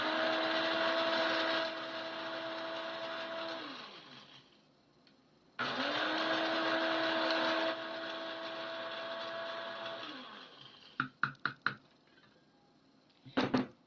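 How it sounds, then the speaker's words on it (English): An electric coffee grinder whirs in two bursts of several seconds each while coarsely grinding spices, winding down after each, followed by a few sharp clicks and knocks. "just a coarse little mix in your coffee grinder"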